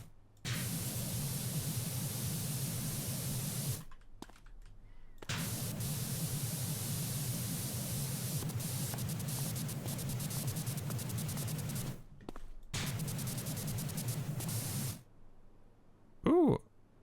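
Turbo nozzle of a pressure washer spraying in the PowerWash Simulator video game: a loud, steady hissing roar in long bursts, cutting out briefly twice and stopping near the end before a short tonal game chime.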